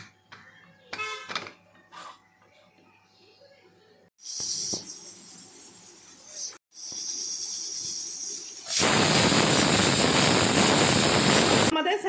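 A pressure cooker holding chicken pulao hisses in bursts, first moderately and then as a loud, rushing steam jet that runs to the end, after some quieter kitchen clatter.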